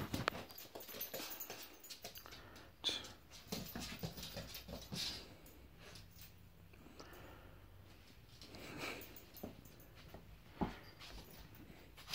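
A young female dog whimpers and pants through a lively play session, with soft yips and scuffling bursts coming and going close by.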